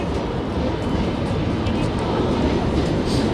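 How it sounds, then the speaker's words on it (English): A train rumbles into Charing Cross station in London at a distance, a steady low roar with faint clattering of wheels on rails, heard outdoors amid city ambience. "You can hear a train going into Charing Cross station."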